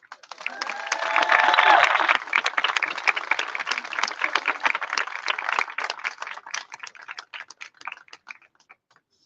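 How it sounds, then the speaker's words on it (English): An audience claps at an outdoor Mexican anniversary celebration with a mural, a dense burst of applause that swells, then thins into scattered claps and fades out, with a brief whistle near the start. "Please, another round of applause and photos"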